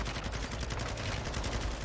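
Sustained rifle and automatic gunfire in Call of Duty Modern Warfare 2, a dense, loud stream of rapid shots filling the whole moment with barely any gap between them.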